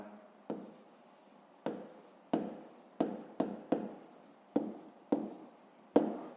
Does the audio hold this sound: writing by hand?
yes